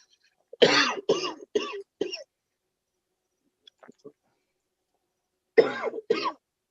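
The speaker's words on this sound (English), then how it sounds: "You do COVID cough or no?" Several short coughs in a quick burst, then quiet with faint clicks, followed by two more coughs; close to the microphone.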